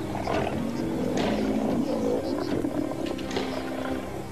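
A male lion on the African savanna gives deep, rumbling roars and growls at a kill, loud and close, with a voice faintly underneath.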